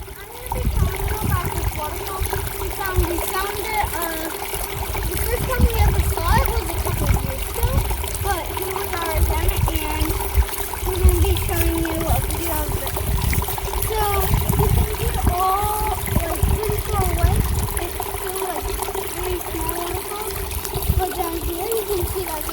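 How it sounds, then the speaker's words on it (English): A flowing stream on a woodland trail babbles and splashes steadily up close, loud and continuous, while people talk over it throughout. "It was difficult to hear Ethan talking over the sound of the stream."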